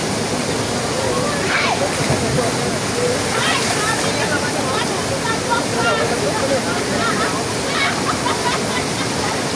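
Waterfall on the Island Garden City of Samal, with a steady, dense wash of rushing, splashing water filling the scene at close range and holding constant throughout, with no break or lull.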